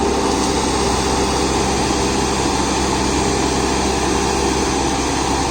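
A New Holland Workmaster 106 HP tractor engine runs steadily at high load during banana mulching, a loud, continuous drone with no pauses and no voices.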